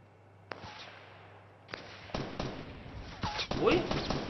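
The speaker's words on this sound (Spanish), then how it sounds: "Que estoy escuchando los disparos aquí." Isolated Fortnite Battle Royale gunshots pop at irregular intervals, then come faster and closer with a muffled voice briefly underneath.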